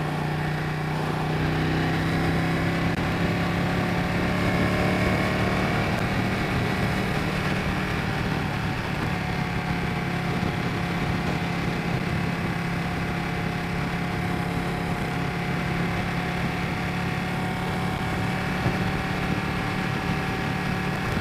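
A Ducati 959 Panigale motorcycle engine runs steadily and continuously at a constant idle-like pitch, loud and close, with a dense, unbroken drone and no speech over it.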